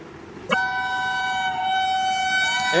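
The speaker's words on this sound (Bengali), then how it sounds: "ট্রেন এসে পড়েছে, সবাই রেডি?" A train arriving at a station sounds a sustained, loud, steady horn that begins abruptly and holds for over two seconds over a low rumble.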